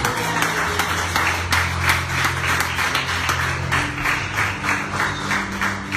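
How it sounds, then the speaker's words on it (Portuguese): Church congregation claps and applauds after a sermon, a steady sustained burst of many hands with a low organ or keyboard tone held underneath. "dê uma linda salva de palmas, Senhor Jesus"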